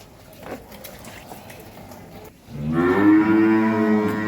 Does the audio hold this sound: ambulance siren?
no